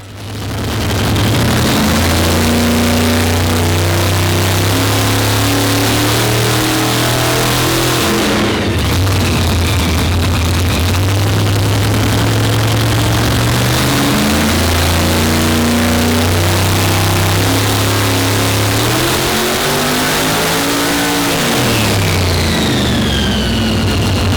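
A tuned car engine, built to rev rather than make power, revs hard and repeatedly, climbing and dropping in pitch through several sustained high-rev pulls, very loud and close with no talking.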